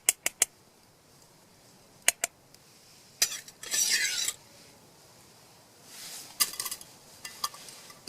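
Aloo gobi in a camp cooking pot gets stirred with a spoon, giving scraping, rasping strokes against the metal, several short clinks, and a longer scraping pass in the middle, fairly close, with no talk.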